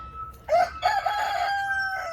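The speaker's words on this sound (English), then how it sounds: "he wants to be a lap chicken" A pet rooster gives a loud, close crow-like call, a short strained burst followed by a drawn-out tonal note that fades.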